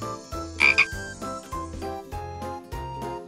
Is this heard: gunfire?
no